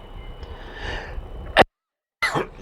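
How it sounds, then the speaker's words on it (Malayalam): A sharp, close cough bursts out over faint room noise, then after a brief silence another short, breathy cough-like burst follows. "ചെറിയൊരു ചുമ"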